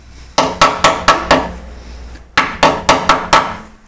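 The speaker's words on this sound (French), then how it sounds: "le fait de piquer avec le marteau-pique, ça nous donne une idée de savoir si c'est attaqué en profondeur ou superficiellement" A chipping hammer strikes the rusty body of an old Renault Clio in two quick bursts of about five sharp metallic taps each, close and loud, with a short pause between the sets.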